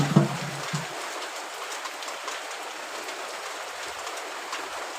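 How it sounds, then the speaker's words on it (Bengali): Steady rain falls on a home during a gentle monsoon shower, a dense, even hiss of drops with a few louder close splashes and a low thump near the start, with no voices. "এত সুন্দর বৃষ্টি।"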